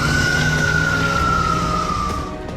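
An ambulance siren wails after an attack in Majdal, Lebanon, a loud sustained tone that falls slowly in pitch, heard close over traffic noise before it fades slightly at the end.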